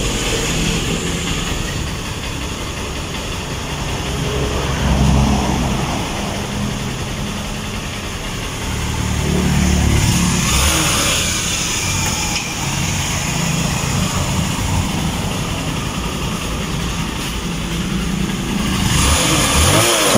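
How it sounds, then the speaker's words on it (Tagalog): TMX Supremo 150 motorcycle engine after a carburetor cleaning for hard starting, idling close by with a steady putter and rising in a few short revs. "napakaganda na ng tono ng motor ng master"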